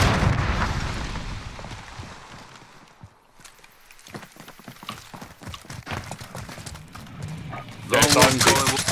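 Video game firefight with a frag grenade blast and gunfire: dense rapid shots and bursts up front, a quieter stretch, then scattered sharp cracks and a loud burst near the end, with players talking over it.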